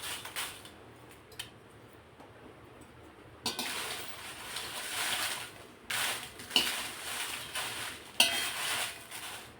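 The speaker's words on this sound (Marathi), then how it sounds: "आता ही मिरची भाजून झाली आहे" Dried red chillies roasting in a pan for Malvani masala, with soft scraping and stirring, occasional clinks and a faint crackle that swell in short bursts.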